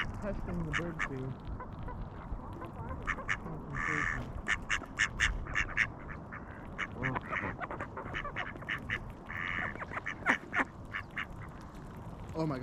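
Ducks feeding at bird food, with repeated nasal quacks and honk-like calls scattered throughout at moderate distance, over a busy outdoor background and some faint human voices.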